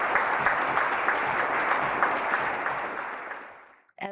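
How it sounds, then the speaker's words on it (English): Congregation applause during a Unitarian Universalist worship service, a sustained wash of clapping that gradually fades out, followed by a brief voice at the end. "please offer your applause and let them know that you see them and witness them going through transitions"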